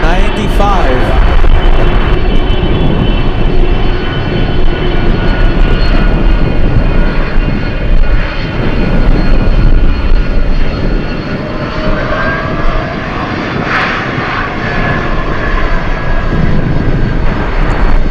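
A 1995-built Boeing 767 cargo jet roars loudly and continuously at Anchorage airport in gusty wind, its engine noise steady and close, while someone talks over it.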